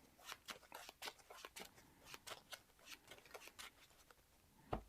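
Playing cards from a Marvel Champions deck being shuffled back in, a run of quiet, quick papery riffles and taps close by, ending in a single louder knock.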